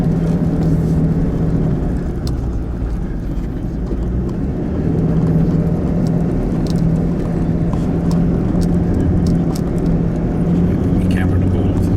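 Four-wheel-drive vehicle climbing a steep dirt road with some wheel slippage, a loud continuous low engine drone and rumble heard from inside the cab, with occasional rattles and knocks.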